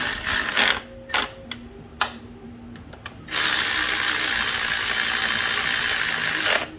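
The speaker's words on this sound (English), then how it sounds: "now I should be able to switch back over to my ratchet, my impact fast speed guy" A tool working on spark plug removal on a 2012 Cadillac SRX4 with the 3.6 L engine: a few short clicking bursts, then a loud, steady whir of a fast-spinning impact ratchet running for several seconds up close.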